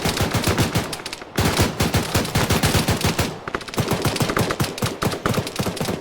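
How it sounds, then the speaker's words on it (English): Machine gun of a BTR armoured vehicle laying down suppressive fire in the video game Arma 3: loud, sustained rapid-fire bursts with a brief pause near the start, then relentless chattering shots. "That BTR is going to counter. Gonna have it give suppressive fire behind their position."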